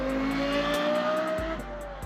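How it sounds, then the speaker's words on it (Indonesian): A high-revving Lexus LFA V10 sports car engine drones close by with a steady pitch, briefly dipping then returning to a loud roar. "Memiliki suara mesin yang khas dan memukau telah menjadi karakteristik mobil ini."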